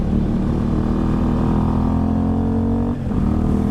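A 2018 Moto Morini Corsaro ZZ motorcycle ridden on a mountain pass holds a loud, steady engine drone close by, briefly dipping near the end before resuming, with no voices.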